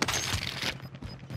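Gunfire in Warzone, a short burst of sharp shots packed into the first moments, then a thinner crackle of game sounds, all at a fairly low level.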